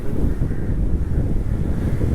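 Wind rushes steadily across the microphone during a bicycle ride on a cool, open seaside road, a low continuous rumble without speech.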